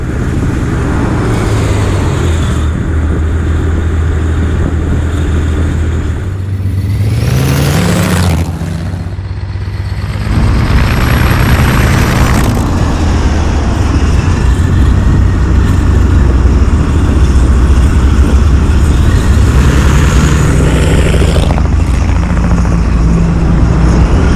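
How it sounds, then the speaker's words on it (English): Supercharged 27-litre V12 engine in a Rover car, a loud, continuous roar that swells and shifts pitch through several rises and falls, with a brief dip partway through, running steadily for the whole stretch. "Supercharged 27 litre V12"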